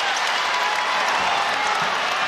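Steady crowd noise and applause fill an arena during an NC State women's basketball game, a dense sustained roar of clapping and cheering without distinct peaks, fairly loud and close.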